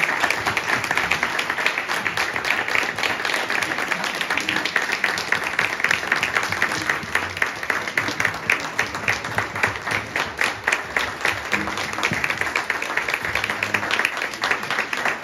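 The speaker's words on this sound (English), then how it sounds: "Let's give them a round of applause." Sustained audience applause after an evening history talk, a thick continuous crackle of many hands clapping that stays loud and even for the whole stretch.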